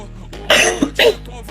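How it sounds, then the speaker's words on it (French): Two or three sharp coughs burst out close by, the middle one a brief throat-clearing hitch, with faint background game audio underneath and no talk. "Excusez-moi, je tousse un peu."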